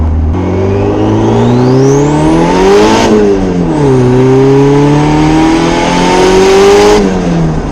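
A twin-turbo Honda Civic on a street tune accelerating at 80% throttle, engine loud and close as revs climb twice with a rising turbo whine and shifts between, no voices.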